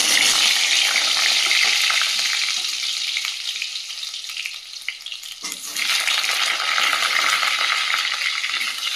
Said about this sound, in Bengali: তো তেলটা গরম হয়ে গেছে, আলুগুলো ভেজে নেব